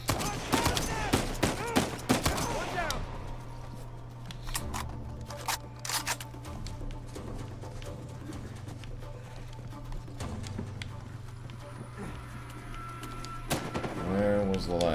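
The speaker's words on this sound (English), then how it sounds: "Hear gunshots, but I can't see shit." Gunfire in the video game Uncharted 4, a quick volley of sharp shots at the start, then scattered single cracks and clattering amid a low steady hum, with another flurry near the end.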